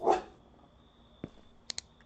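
A dog in the video game Creature Kitchen lets out one short bark, then a few faint thuds and small high clicks follow in a quiet background.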